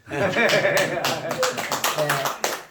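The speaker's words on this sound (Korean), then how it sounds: "하여튼 박수 한번 치죠" A small audience at a farming lecture on pear and fruit growing claps in a quick burst of sharp, close hand strikes, mixed with chuckling and talking voices.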